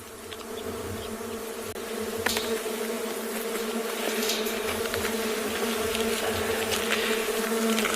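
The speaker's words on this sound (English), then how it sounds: "You can hear the sound, the constant buzzing around us." A huge colony of leafcutter bees buzzing constantly all around, a dense, steady drone of many wings close by, with occasional individual bees zipping past.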